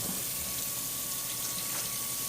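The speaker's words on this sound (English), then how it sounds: "we'll rinse it off. You can use regular tap water, however you want." Lukewarm tap water streams steadily over a vinyl record being rinsed clean of soap, a constant close hiss of running water with no talk.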